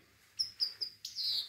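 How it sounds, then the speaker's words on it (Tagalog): Pigeons and doves calling up high: four or five brief, faint chirping calls in quick succession, the last one longer, against quiet surroundings. "Doon sa taas, mga pigeon."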